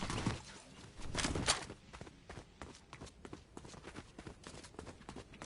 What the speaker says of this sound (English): I heard footsteps somewhere else though.